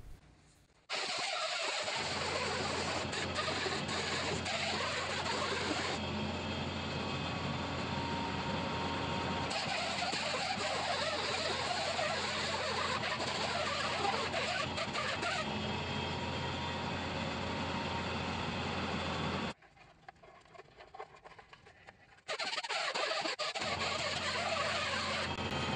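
A Scotch-Brite wheel on a power tool scrubs gasket material off a Mitsubishi 4G63 engine block, giving a loud, steady whirring grind that runs almost continuously, with a short drop in the middle before it resumes.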